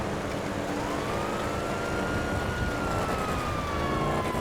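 A police car siren from GTA 5 Online wails with a slow rising and falling tone over steady engine and traffic rumble, loud and continuous throughout.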